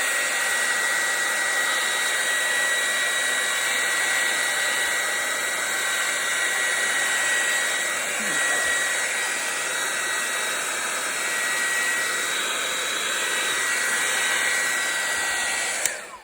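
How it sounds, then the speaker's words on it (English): A heat gun blowing steadily over a resin flower casting, a loud, constant close-up whoosh that lasts the whole time and cuts off at the end, with no talking. "let me just give this another quick skirt with the heat gun"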